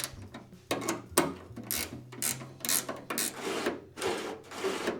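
A nut being tightened onto a heater vent lever against a metal stop plate, producing close, irregular metallic clicks and ratcheting scrapes in uneven bursts.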